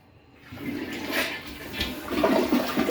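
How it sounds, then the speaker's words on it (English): A new household toilet flushes: a rushing gush of water builds quickly and stays loud, then moves into the hiss and gurgle of the tank refilling. "I'll hit the flusher here."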